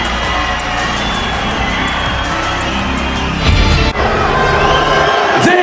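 A capacity crowd at a Commonwealth lightweight boxing bout roars as Amir Khan arrives, a dense, loud wall of cheering and shouting that swells further toward the end, with scattered whoops above it.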